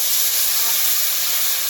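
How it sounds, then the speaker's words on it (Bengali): Water poured into a hot pan of fried potatoes with chilli, salt and turmeric for a snakehead fish curry sets off a loud, steady steam hiss that fills the whole moment with no pause. "আমি জলটা দিয়ে দিচ্ছি"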